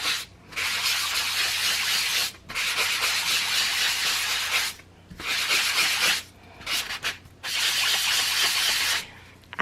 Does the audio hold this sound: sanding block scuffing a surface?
yes